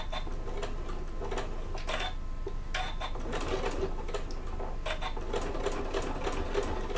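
A sewing machine stitches steadily through a bag, running close and continuous at an even pace for the whole stretch with brief changes in rhythm.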